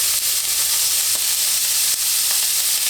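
Beef pieces fry in oil in a well-seasoned cast iron pan, a steady close hissing sizzle with faint crackles throughout.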